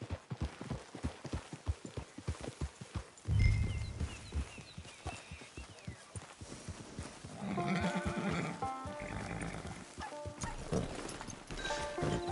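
A horse in the video game Red Dead Online walking with steady, close clip-clopping hooves, then letting out a loud whinny and snorting as music rises underneath, with hoofbeats resuming afterward.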